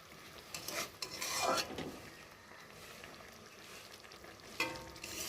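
Small fish curry with chopped coriander leaves being stirred in a pan, giving scraping, rasping strokes over a soft sizzle, with louder scrapes near the start and end.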